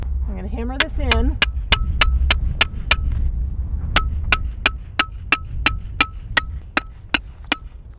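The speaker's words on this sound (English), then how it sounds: "I'm going to hammer this in." Metal snow picket hammered into snow for an anchor, about fifteen sharp, evenly spaced ringing strikes close by, with a voice speaking briefly at the start.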